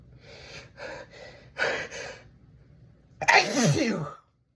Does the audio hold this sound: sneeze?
yes